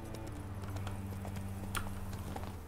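Hooves clip-clop steadily from a horse in The Witcher 3, a regular walking rhythm of close, distinct hoofbeats over a low ambient hum, with no talking.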